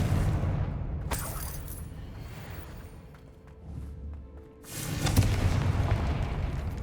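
A Confringo spell explosion in the video game Hogwarts Legacy: loud, booming magical blasts, one erupting early and another landing heavily near the end, with a rumbling blaze between them.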